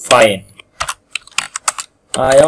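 Keys clack on a computer keyboard in a short burst of quick taps during a pause, with someone speaking just before and after.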